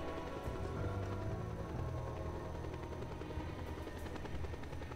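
Helicopter arriving for an extraction in the open-world game Just Cause 2, a steady loud rotor drone with heavy low-end thrum running throughout, no voices over it.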